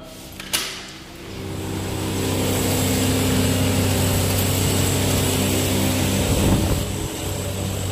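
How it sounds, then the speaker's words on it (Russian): A loud, steady mechanical drone with low rumbling from a nearby construction site, heard from an apartment balcony in Boca Raton, opening with a sharp knock. "шум какой-то от стройки"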